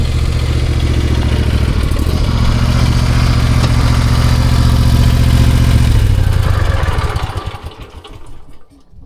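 A stump grinder runs loud and close in a swamp, its engine holding a steady rumbling drone with rattling clatter for several seconds before winding down and fading toward the end.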